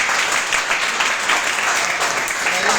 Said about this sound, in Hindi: सबसे बड़ी बात है भाई, तालियां हो जाए।